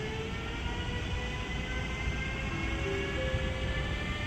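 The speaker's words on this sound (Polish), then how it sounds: "Pociąg SKM linii S3 ze stacji Warszawa." An SKM S3 commuter train rumbles steadily at Warszawa Wschodnia station, with a constant low roar and faint tonal whines held throughout, no voices.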